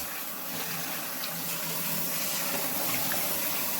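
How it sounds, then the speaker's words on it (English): Steady rush of running tap water in a sink as broccoli is washed under it, a continuous broadband splashing wash without pauses, close and fairly loud. "let's wash this one and cook the broccoli for the kids"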